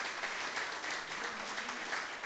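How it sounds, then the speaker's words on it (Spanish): Steady, dense applause from a church congregation welcoming a preacher, continuous clapping throughout with no talk. "Le damos un aplauso de bienvenida a nuestro querido hermano"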